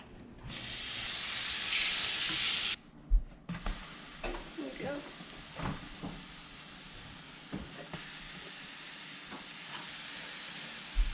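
Puffball mushrooms fry in a pan. A loud burst of hissing sizzle comes first, then a quieter crackle runs through the rest with occasional clinks and stirring.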